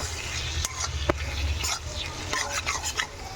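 Eggs being mashed into beans frying in a pan: repeated scraping and stirring strokes of a utensil against the pan over a continuous close sizzle, with a few sharper clicks.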